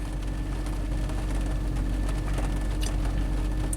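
A Silhouette's engine idling steadily nearby while warming up, a constant low hum with faint background chirps and no talking.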